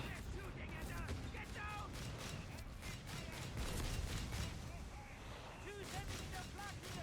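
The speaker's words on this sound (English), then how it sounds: "AA gun blasting away at this captain." An AA gun fires in Company of Heroes 3, a steady dense stream of rapid shots and distant battle booms with a voice talking over the top throughout.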